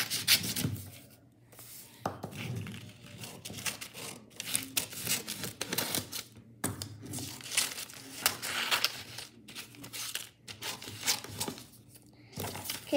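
Paper being crumpled and squished by hand while making a pop-it toy from a water bottle, a close, continuous crinkling and rustling with bursts of louder crushing and brief pauses, no talking.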